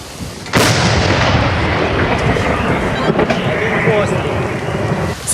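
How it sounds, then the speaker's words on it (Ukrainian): A Soviet-era M46 towed artillery gun fires with a huge booming blast in combat, followed by a long rumbling roar that fills the rest of the clip. "влучна гармата М 46 випускає по ворогу снаряд за снарядом"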